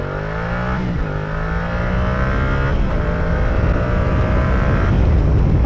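A 2017 Yamaha Tracer 700 motorcycle revs hard and climbs steadily through the gears from 0 to 100, its pitch rising and dropping with each shift, loud and close throughout.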